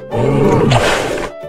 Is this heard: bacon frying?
no